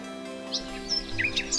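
Small bird chirping from a tree in a mountainous setting, in a cartoon story: a few quick, high tweets scattered over a soft steady background, close and fairly clear, with no talking.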